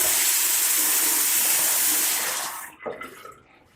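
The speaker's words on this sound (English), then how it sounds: "turn the water on," Water runs steadily from a Delta faucet with a hissing, splashing stream, then cuts off sharply near the end, leaving a few faint drips and small clunks.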